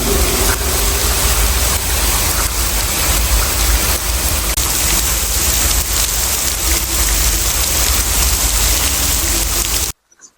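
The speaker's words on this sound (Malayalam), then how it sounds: "നല്ല കോരിച്ചൊരിയുന്ന മഴയാണ്" Dense, heavy artificial rain in an indoor rain room installation pours down steadily for ten seconds, a loud continuous roar of water on hard surfaces, cutting off abruptly at the end.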